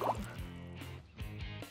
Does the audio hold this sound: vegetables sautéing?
no